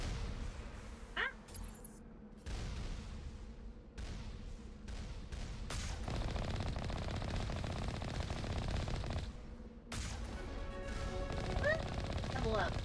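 Turrets in the video game Mass Effect fire rapid machine-gun bursts, with dense rattling volleys and brief pauses between them. The shots are loud and sustained over game sound effects, and there is no clear talk.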